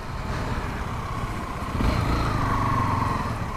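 A Honda XRE Sahara 300 motorcycle, a 300 cc model, rides along with a steady, close engine drone that swells slightly halfway through, with no talking.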